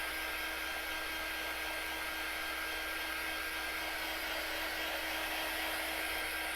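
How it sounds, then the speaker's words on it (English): A hair dryer runs steadily and loud throughout while drying wax on a rustic wooden picket fence, a constant high whooshing hum with no talk. "Keep moving the dryer."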